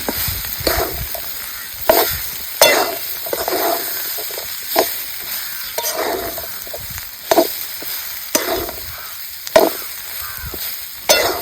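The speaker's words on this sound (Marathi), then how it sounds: "परत एकजीव करून हलवून घेते." Ghevda (flat bean) dry bhaji frying in a pan and being stirred, with a steady sizzle broken by repeated scraping strokes of the spoon, close and fairly loud, no voices.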